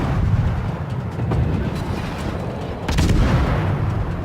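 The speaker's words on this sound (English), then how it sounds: "this is where I was talking about the guns sounding pretty cool" Rapid-fire main guns of the U.S.S. Benson destroyer in the World of Warships naval battle game, a dense rolling barrage of booming shots that swells louder near the end, with no talking over it.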